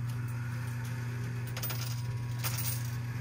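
Coins tumbling off a ledge in an arcade coin pusher machine, a short burst of metallic clinks and jingles over a steady machine hum, with no voices.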